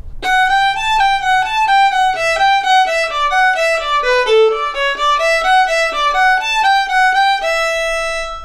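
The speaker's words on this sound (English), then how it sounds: "if I were to play the beginning of the B section of Arkansas Traveler without slurs, this is what it would sound like." A fiddle plays the opening of the Arkansas Traveler B section with every note bowed separately, no slurs, giving a crisp, evenly articulated run of detached notes, close and clear, ending on a held tone.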